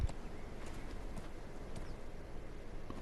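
A horse's hooves clip-clop steadily at close range in the Conan Exiles video game, a faint, even rhythm of thuds over low background noise.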